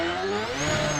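Car engine held near high revs, a loud, strained whine with steady harmonic tones that slowly shift in pitch for about a second, suggesting bouncing on the rev limiter.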